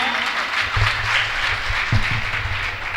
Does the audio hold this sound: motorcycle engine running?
no